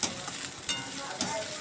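Cabbage, green chili, tomato and capsicum stirred in a pan for Manchurian, a continuous close sizzle with a few soft scraping strokes of the spoon.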